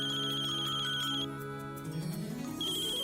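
A phone ringtone plays a short repeating electronic melody at moderate volume. It breaks off briefly in the middle and then starts again, with no one speaking over it.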